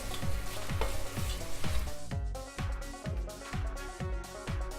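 Tomatoes and garlic cooking in a pan for black bean soup, with a steady sizzle and frying crackle running the whole time, overlaid by a regular rhythmic thump and tonal layer, with no voices.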